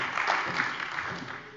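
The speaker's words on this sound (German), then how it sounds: "Der Beifall kann sich auf der linken Seite des Hauses noch steigern." Applause in a Hessian state parliament plenary session during a budget law debate, a steady wash of clapping from the chamber lasting the whole moment, fairly distant and even in level.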